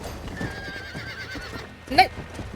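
A horse whinnies in Red Dead Redemption, a short sharp neigh near the end rising over steady clip-clop hooves and game noise, with someone talking throughout.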